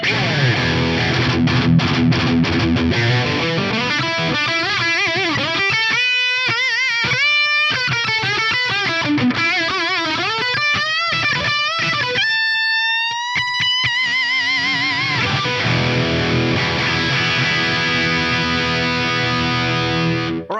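A heavily distorted electric guitar played through a pitch follower effect plays a continuous, sustained line with bends and slides, loud and saturated with no pauses.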